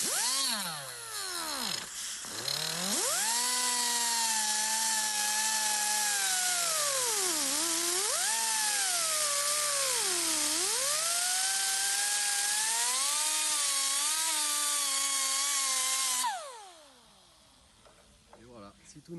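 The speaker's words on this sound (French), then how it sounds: "Donc là, on va la couper, là, on va lui donner la forme." A power tool cuts and shapes a resin fibreglass part for a wide-angle kit, giving a loud, close, high whine whose pitch dips and recovers under load for about fifteen seconds before stopping.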